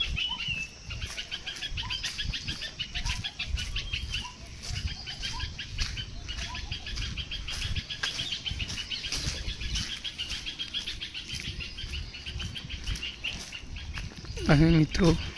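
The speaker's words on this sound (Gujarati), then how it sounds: "દેખો મિત્રો થોડો વરસાદ પડ્યો તો કેવા મોરલા બોલે છે." Peacocks calling near a temple after rain, repeated calls and bird sounds over a moderate outdoor background, with a louder close call near the end.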